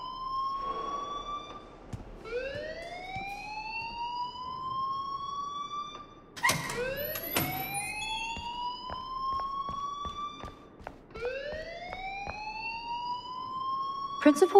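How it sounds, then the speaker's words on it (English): A rising-and-falling siren-like alarm wails repeatedly inside a school in the video game Life is Strange, several sweeping cycles loud and close, with talk running underneath. "please turn off that alarm since that's your job"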